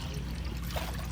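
Water poured out of a bathroom basin, a steady continuous splashing trickle heard up close.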